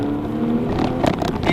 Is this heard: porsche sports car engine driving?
yes